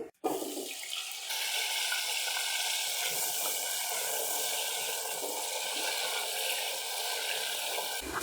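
Cut potatoes frying in a cup of hot ghee, a loud, steady, close hiss that holds evenly throughout after a brief start, with no talking.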